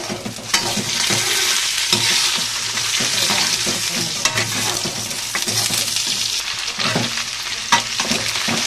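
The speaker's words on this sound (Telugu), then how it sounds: "బెండకాయ ఫ్రై అయితే చేస్తున్నాము." Okra (bendakaya) fries in a pan with a steady, close crackling sizzle, broken by frequent scraping stirs and occasional spatula knocks against the pan.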